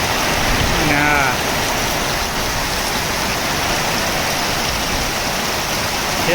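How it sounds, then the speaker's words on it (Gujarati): Heavy rain pouring down during a thunderstorm over farmland, a dense, even hiss of water on surfaces that stays loud and steady throughout, with a brief faint sound near the start. "ને વરસાદે જો પાણી પાણી કરી દીધું."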